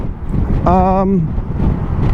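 Steady, heavy wind roar buffeting the microphone throughout while riding a 2021 Kymco XCiting S400 scooter, with a brief voice-like tone rising out of it partway through.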